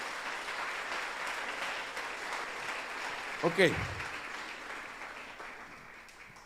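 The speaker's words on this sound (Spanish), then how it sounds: "Dele palmas al Señor de la gloria." A church congregation applauds during a worship service, a sustained, moderately faint wash of clapping with a brief spoken word partway through.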